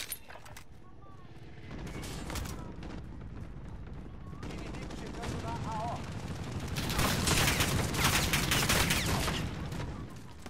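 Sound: gunfire in video game Call of Duty: Modern Warfare

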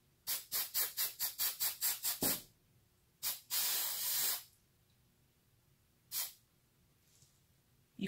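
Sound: spray paint hissing as it eats into styrofoam

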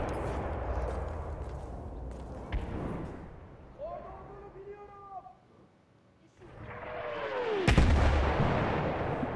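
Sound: gunfire in Battlefield 1 video game

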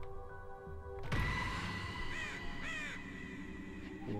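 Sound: crows cawing in South Park video game

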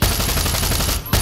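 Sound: gunfire in the video game Far Cry 6

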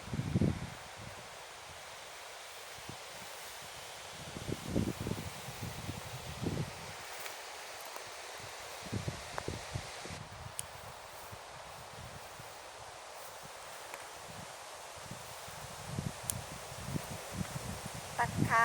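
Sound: strong wind rustling leaves in a forest

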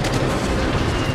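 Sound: naval gunfire and explosions in the video game World of Warships

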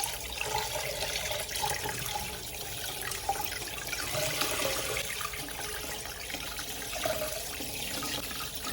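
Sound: rinsing cleaned sea bass under running tap water

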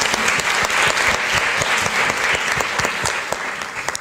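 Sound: audience applause for the performance

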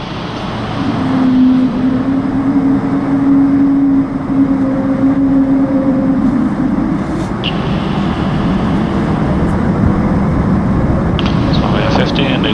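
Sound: Airbus A220-300 jet taking off on runway

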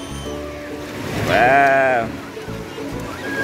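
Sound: sea water washing into sand channel on beach

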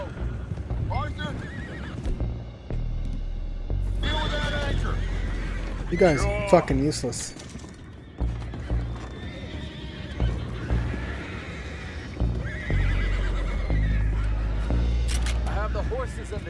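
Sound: horses neighing in a video game

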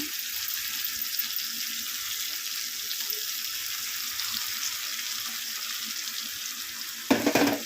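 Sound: chicken curry with ground gravy sizzling in pan

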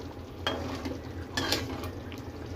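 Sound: pointed gourd and potato curry being stirred while cooking

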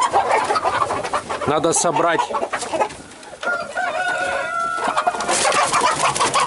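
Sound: roosters clucking and crowing

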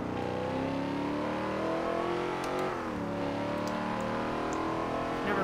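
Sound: car engine revving and wheelspin in Forza Motorsport 7 video game

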